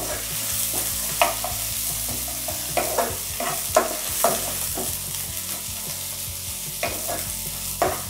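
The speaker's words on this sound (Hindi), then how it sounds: "गोल्डन ब्राउन जब तक ना हो इसे हमें अच्छे से फ्राई करते रहना है" Gatte, gram flour dumplings, frying in a pan while being stirred until golden brown: a loud continuous sizzle broken by frequent close scrapes and clinks of the spoon against the pan, no talking.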